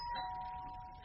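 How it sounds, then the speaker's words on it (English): Doorbell in an old radio drama, a single sustained electronic ring tone heard faintly and briefly against a quiet background. "That was the doorbell,"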